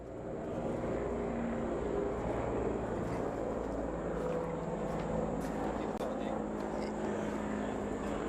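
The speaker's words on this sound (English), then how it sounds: "Oh, helicopter going over." A helicopter flies overhead at a beach surf event, a loud, steady engine and rotor drone that fills the whole stretch, with faint outdoor background beneath.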